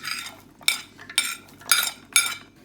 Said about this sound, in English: I'm going to mix all together